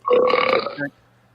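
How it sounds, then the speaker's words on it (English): One loud, close burp lasting under a second, voiced and gurgling, ending with a short low tail before quiet. "Where did that burp come from?"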